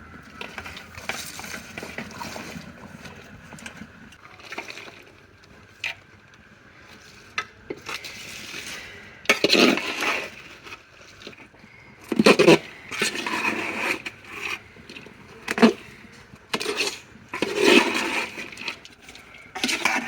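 A pot of rice, lentils and mixed vegetables for khichuri is stirred with a utensil, producing repeated scraping and clattering strokes with bursts of louder scrapes, close and alone.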